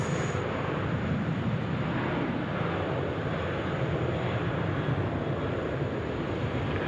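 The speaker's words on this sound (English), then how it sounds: "There is a Qantas aircraft departing to Melbourne at the moment" A Qantas airliner departing Sydney Airport for Melbourne at night, a continuous broad roar of jet engines that stays loud and steady for the whole stretch with no voices.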